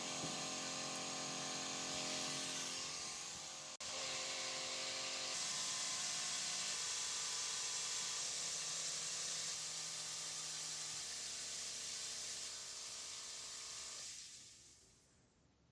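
A Tru Systems battery-powered keg sprayer sprays liquid in a loud, continuous hiss over a shifting motor whine for about fourteen seconds, then winds down and stops.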